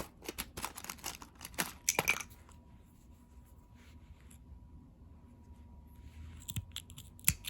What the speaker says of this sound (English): then we can cut that shorter